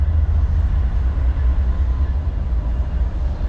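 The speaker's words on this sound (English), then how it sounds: "We do have the train that literally runs right through the middle of downtown." A freight train rolls through downtown Calgary, a loud, continuous low rumble of rail cars passing close by with no letup and no talk.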